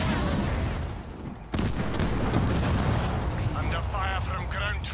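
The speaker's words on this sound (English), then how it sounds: "I'm under fire from ground troops." Gunfire from ground troops in the Halo Wars 2 real-time strategy game crackles as dense, continuous battle noise with rapid shots and a sudden louder burst partway through, under someone talking over the action.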